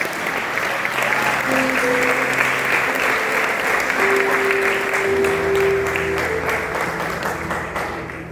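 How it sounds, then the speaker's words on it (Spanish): A church congregation claps loudly and continuously during a sermon, sustained applause with held musical tones underneath that tapers near the end. "Dale un aplauso al Señor."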